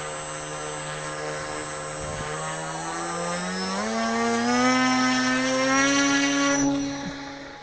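A drone's propellers whine steadily, then the pitch climbs as it lifts off and rises, a layered buzzing drone of rotor tones that swells louder before easing slightly at the end.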